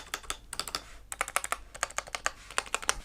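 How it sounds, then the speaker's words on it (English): Typing on a Tecware Phantom Plus 87-key TKL mechanical gaming keyboard with ABS keycaps, crisp close clacky keystrokes in quick irregular bursts with short pauses, no talk. "A really nice sound from this keyboard."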